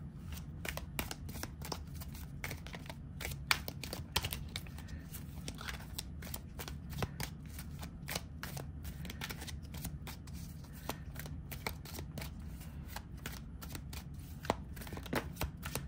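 A small tarot deck is shuffled over and over, a rapid run of crisp riffling flutters with soft taps, close and steady, with no voices.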